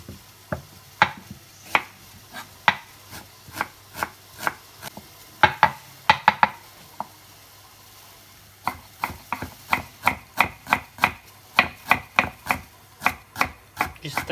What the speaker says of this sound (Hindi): हमने यहाँ पे चार ओनियन ले लिया, तो इसको बारीक से हमें चॉप कर लेना है